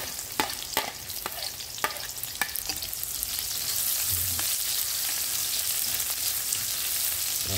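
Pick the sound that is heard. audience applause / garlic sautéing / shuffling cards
garlic sautéing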